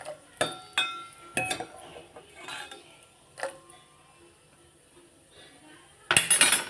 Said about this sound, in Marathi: पहिले ड्रायफ्रूट्स टाकून घेतले इथे छान परतून घेऊया गोल्ड येईपर्यंत